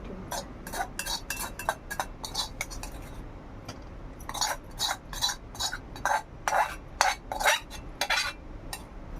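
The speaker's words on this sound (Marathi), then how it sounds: "आता पण ही प्लेट मध्ये काढूया" Cooked wild mushroom vegetable scraped from a pan onto a plate, with repeated sharp metal spoon clinks and scrapes against the cookware in uneven bursts, close by, with no talking.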